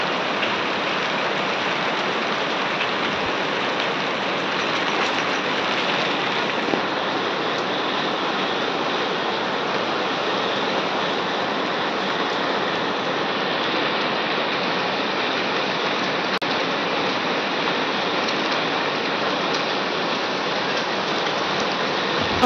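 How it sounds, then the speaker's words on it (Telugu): Heavy rain pouring down during a downpour in Telangana, a dense, steady hiss that holds unbroken for over twenty seconds with no talking. "వర్షాలు అయితే కురుస్తున్నాయి."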